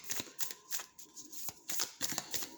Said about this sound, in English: Do 1 more shuffle, please.